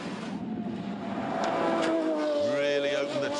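A race car accelerating hard onto a straight after the Hammerhead corner on the Top Gear test track, its engine note climbing steadily as the revs build, loud and continuous with a rising tone near the end.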